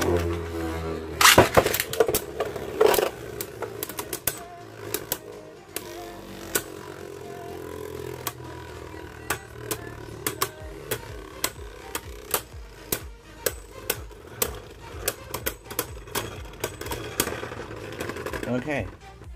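Beyblade Burst spinning tops, including a Valkyrie and a Legend Spriggan, clash in a plastic stadium: a loud launch burst followed by a run of sharp clicking impacts and rattles, with people talking over the battle.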